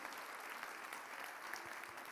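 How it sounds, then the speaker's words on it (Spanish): A church audience applauds throughout, with a steady, moderately distant patter of many hands clapping and no voices over it. "Dale un aplauso a Jesús, que es la luz."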